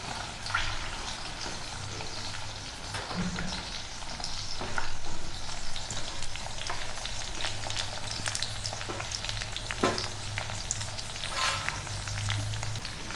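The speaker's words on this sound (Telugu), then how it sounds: "ఆనియన్స్ కొద్దిసేపు మంచిగా గోల్డెన్ బ్రౌన్ కలర్ వచ్చిందాక వేగనిద్దాం" Sliced onions frying in hot oil with green chillies and curry leaves for bagara rice, a steady close sizzle and crackle with occasional stirring scrapes throughout.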